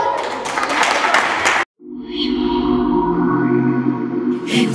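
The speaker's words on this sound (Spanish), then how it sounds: "para quien pido un fuerte aplauso" Audience applause at a Day of the Dead Catrinas and Catrines contest rings out loudly for about a second and a half, then cuts off abruptly, giving way to music.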